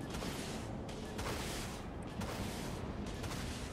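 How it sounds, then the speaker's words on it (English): Repeater guns aboard the Zilant, a Russian hero ship in the space combat game Dreadnought, fire a dense, continuous rattle of rapid shots with brief bursts standing out, loud and steady throughout. "That secondary armament is the repeater guns"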